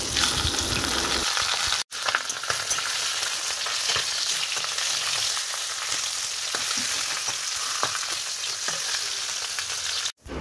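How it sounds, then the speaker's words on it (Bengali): A fish head fries in hot oil, giving a loud, steady close sizzle with faint stirring scrapes throughout and two brief drops in sound. "প্রথমেই মাছের মাথাটাকে ভেজে নিচ্ছি।"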